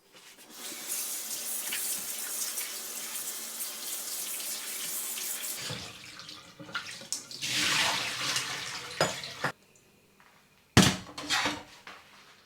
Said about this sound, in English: Now let's give this a wash.